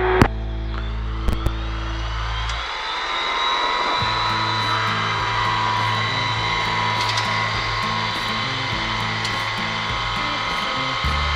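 A light aircraft takes off from a grass runway, with a steady, loud engine drone heard from inside that rises in pitch as power builds and then holds evenly, with a couple of brief clicks near the start.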